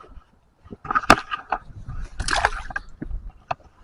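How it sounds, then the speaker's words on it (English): A goldeye caught on the Red River in autumn is released and splashes back into the water, with a few close, sharp splashes and slaps spread across a few seconds. "Let's unhook him, get him back to the water."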